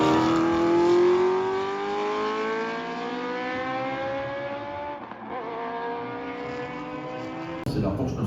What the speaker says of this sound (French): C'est la Porsche 962C de Michel Lecour et Raymond Larac.